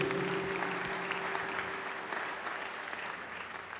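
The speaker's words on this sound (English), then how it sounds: "Clap your hands for mighty Jesus." Church congregation clapping hands together during a lively worship service, a dense steady wash of applause filling the room, with a sustained tone and faint voices underneath.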